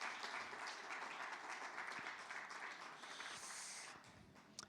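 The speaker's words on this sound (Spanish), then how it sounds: "Démosle ese aplauso a Dios" A church congregation gives a round of applause during a Spanish-language sermon, a full, steady crowd clapping that fades slightly toward the end, with no speech over it.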